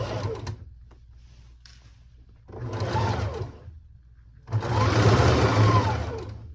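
A sewing machine stitches a dress seam in three short runs of steady whirring, close by, the last run the longest and loudest.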